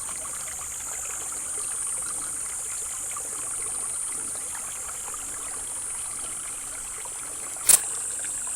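A mountain brook runs over volcanic rock at Aguirre Springs, giving a steady, soft wash of flowing water with one brief sharp click near the end.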